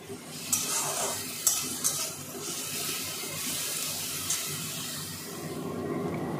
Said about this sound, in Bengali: পেঁয়াজটাকে একটু শ্যালো ফ্রাই করে নিতে হবে।